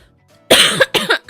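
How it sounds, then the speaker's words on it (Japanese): Three or four harsh coughs in quick succession from a woman recovering from a lingering cough, close and loud, with a short gap before the last smaller cough and near silence beforehand. "咳ね、まだちょっと出てるんですが"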